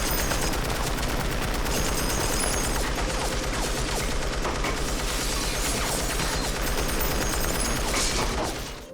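An M60 machine gun turret fires from a car trunk in a Breaking Bad scene, a dense, continuous rattling burst of rapid gunfire lasting several seconds, loud and unbroken before cutting off.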